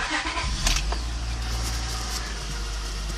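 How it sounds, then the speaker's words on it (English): An Acura TL car engine, 1999-2003 model with 169,000 miles, turns over and catches, settling into a steady, loud running rumble. "I'm gonna start up the car and show you what it sounds like"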